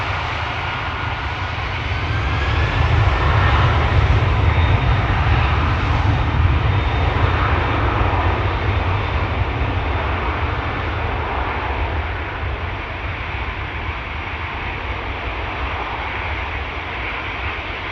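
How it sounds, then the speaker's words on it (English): At Schiphol Airport, with an ITA airliner lining up and a KLM widebody approaching, a loud, continuous jet engine roar swells a little early on and then holds steady for the whole stretch. "Ita is lining up right as a big fat KLM widebody is approaching from behind."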